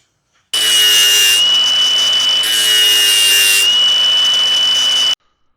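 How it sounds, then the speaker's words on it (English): A drill whines steadily at high pitch for several seconds while drilling holes through a metal steering coupler, the tone dipping briefly in the middle, then stops abruptly. "here I'm just drilling a couple holes through the coupler that I made"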